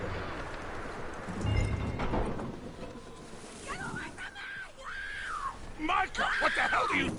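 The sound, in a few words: horse in the video game Red Dead Redemption 2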